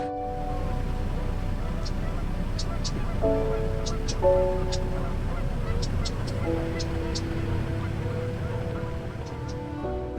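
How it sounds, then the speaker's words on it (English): Canada geese honking outdoors in Idaho, several clear nasal honks in irregular bursts at moderate distance over a steady background rumble, with a voice talking underneath. "They look like geese."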